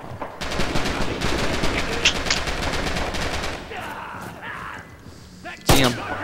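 Sustained rapid gunfire in Red Orchestra 2 fills most of the stretch, followed by quieter intermittent game sounds and a final sharp loud shot near the end, with no talk over it.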